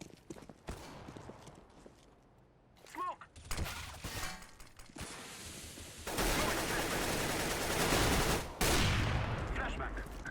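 Gunfire in the CS:GO video game on the Dust2 map: sharp shots arrive singly at first, then grow into dense, loud bursts over a noisy game backdrop, with a sudden break before firing resumes.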